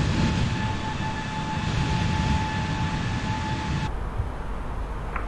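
An airliner takes off from Manchester in Microsoft Flight Simulator, a steady loud jet roar with sustained whining tones that drops sharply in level about two-thirds of the way through. No one speaks.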